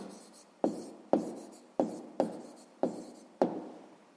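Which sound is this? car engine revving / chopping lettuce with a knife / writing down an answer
writing down an answer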